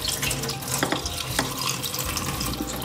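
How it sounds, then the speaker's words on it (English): Cold tap water runs into a sink while fresh basil leaves are rinsed, a close, steady splashing gush with small drips and clinks from handling the leaves, and no voices. "First things to do is to wash our basil leaves with cold water."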